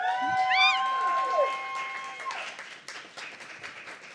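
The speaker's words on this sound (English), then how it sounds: "Can we give one more round of applause?" Applause from an audience at a book event, a wash of clapping that swells after a brief high pitched squeak and then thins and fades over several seconds, with no talking over it.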